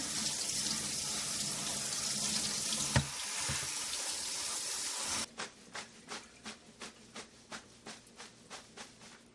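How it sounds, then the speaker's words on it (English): Cold tap water runs steadily into a sink as mint leaves are rinsed, a loud continuous splashing hiss; then the flow stops and a string of regular drips follows, tapping down into the basin. "let's rinse it off in a little cold water"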